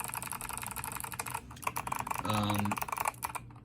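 Rapid typing on a keyboard with Zeal Clickies tactile switches in a modified top mount build gives a continuous patter of close, crisp keystrokes, pausing briefly midway before a quick burst.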